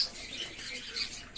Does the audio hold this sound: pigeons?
yes